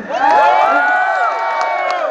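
Crowd cheering loudly at a public address about civil servants' bonuses, a sustained mass of shouts and whoops from many people, dense and close, with no single voice standing out.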